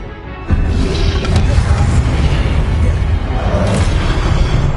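A Confringo fire spell in Hogwarts Legacy bursts with a loud, deep booming blast that rolls on as a rumbling, crackling roar after a quiet start.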